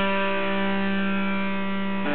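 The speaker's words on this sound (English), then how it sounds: "As you see the tops being kind of clipped here at the very top, that adds a little bit of distortion, a little bit of fuzziness sound" A sustained, steady electric guitar tone run through a fuzz distortion pedal with clipped waveform tops, buzzing with dense harmonics and holding evenly for about two seconds before a slight change near the end.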